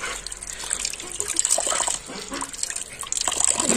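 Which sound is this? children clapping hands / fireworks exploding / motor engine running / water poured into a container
water poured into a container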